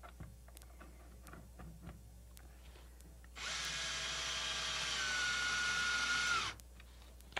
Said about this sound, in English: This is also a variable speed drill, so I can go really slow if I want to